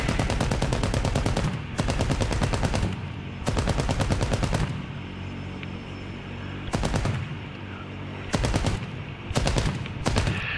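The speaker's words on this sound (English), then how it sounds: "Look at what my guns can do." Aircraft machine guns in the War Thunder video game fire in loud, sustained bursts, several long rattling volleys separated by short pauses, with no voices over them.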